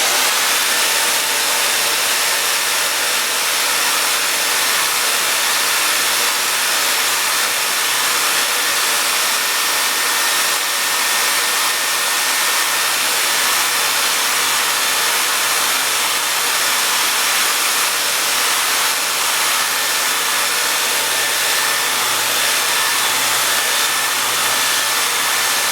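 An electric mixer runs steadily for the whole stretch, blending soap-making oils with essential oils, giving a continuous whirring hiss with no pauses and no voices.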